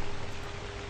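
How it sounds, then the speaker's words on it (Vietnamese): Heavy rain in the video game Bus Simulator Vietnam, a dense, loud, steady hiss of downpour filling the whole moment with no voices. "Mưa quá trời lớn luôn."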